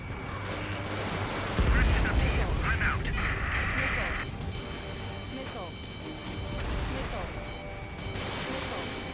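Ace Combat 7 aerial combat plays as dense, continuous game audio: gunfire bursts and missile blasts layered over a steady engine drone, with a heavy impact about a third of the way in.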